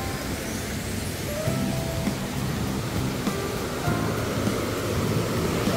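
A mountain valley stream rushes below a bridge near a lodge, giving a steady, broad wash of flowing water, with faint other sounds over it now and then.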